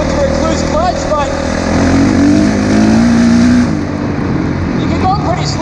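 A Honda CRF450 dirt bike converted into a snowbike and fitted with a Rekluse clutch runs close by, its engine droning and rising in pitch under acceleration, with a rider talking over it.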